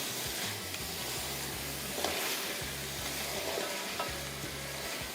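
Chicken, potatoes, onion and tomato gravy fry in a pan for biryani, giving a loud, steady sizzle with stirring throughout and no talking.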